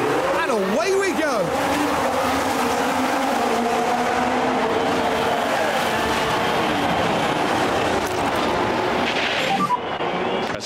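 A field of Formula 1 cars launches at the start of the Saudi Arabian Grand Prix in the F1 Manager 2023 game: a dense, steady engine roar with rising pitch sweeps, loud throughout and partly under a commentator's voice.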